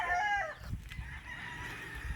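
Chickens on a rural farm in the countryside cluck and crow, with a clear call up front followed by scattered lower-level clucking and background rustle.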